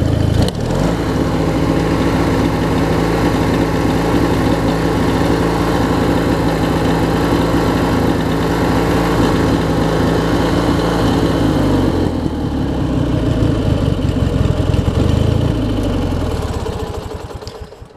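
A Craftsman riding mower's Briggs & Stratton opposed-twin engine idles loudly and steadily nearby, a rough continuous drone that shifts and softens partway through before fading out at the end.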